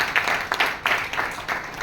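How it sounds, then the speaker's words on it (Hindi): An audience at a hotel meeting breaks into applause, a dense patter of many hands clapping together, steady and moderately loud from start to finish. "एक बार जोरदार ताली के लिए बजाइए।"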